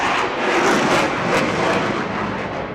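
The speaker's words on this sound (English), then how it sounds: "it's all achieved through the amazing engines we have in this jet" A military jet powered by two Eurojet 200 engines roars past at an airshow in Eastbourne, a loud, steady, broadband thunder of engine noise filling the whole moment without voices.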